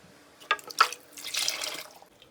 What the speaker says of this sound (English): that is the hot water I'm going to use to remove all the excess sauce in the 3 of the tins